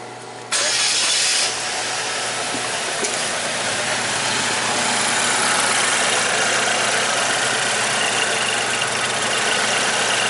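A Chevy Equinox with a P0011/P0016 low-power fault cranks and catches about half a second in, then settles into a steady, fairly loud idle that runs on alone without any talk.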